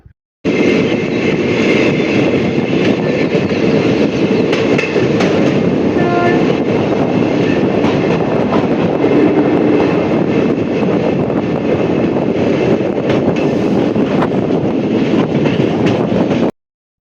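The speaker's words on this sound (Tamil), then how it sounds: "இப்போ ரெண்டாவது பிளாட்ஃபார்மில் வந்து நம்ம ட்ரெயின் என்ட்ராகுது" A train rumbles steadily along the tracks entering a station platform, a loud continuous roar with faint rhythmic clacking of wheels, sustained the whole time.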